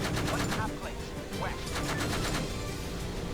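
The AH-64D Apache's gun fires in Arma 3 as a dense, continuous rapid burst of loud shots throughout, close and sustained.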